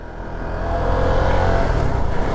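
A 2024 CFMoto NK250 motorcycle engine is ridden gently during break-in, a close, steady motor drone that swells slightly in loudness as the bike gets underway, with no talking.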